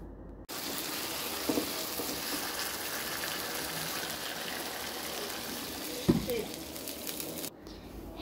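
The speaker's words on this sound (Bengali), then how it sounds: "এখন আমি এখানে পরিমাণ মতো ঝোল দিয়ে দিব" Broth being poured into a pot of nearly cooked chicken and potato curry, giving a steady soft wash of liquid and simmering hiss for several seconds, with a couple of brief clinks from the pan, close by and moderately quiet.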